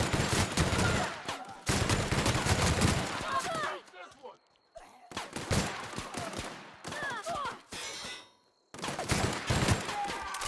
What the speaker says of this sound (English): Okay, well, I guess I'm shooting everybody now.